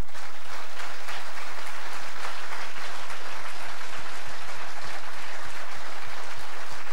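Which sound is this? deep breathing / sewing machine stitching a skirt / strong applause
strong applause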